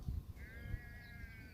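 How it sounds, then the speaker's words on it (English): A sheep gives one drawn-out, wavering bleat close by, quiet overall, with a couple of low thumps at the start and no talking. "sheep's over there ruining my video."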